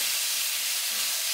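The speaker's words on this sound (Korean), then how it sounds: "페페로치노, 그 다음에 향신채, 양파, 마늘 같이 넣고 이렇게 볶아줍니다." Onion and garlic sautéing in extra virgin olive oil in a hot pan with peperoncino, a steady bright sizzle and hiss that stays even and close throughout, with no talking.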